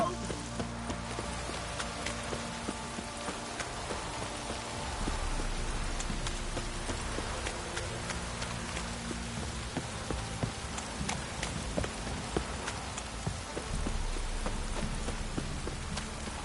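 Steady rain patters and hisses throughout in The Witcher 3: Wild Hunt, joined by scattered knocks and thuds, with a low droning hum underneath.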